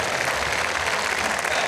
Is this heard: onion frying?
no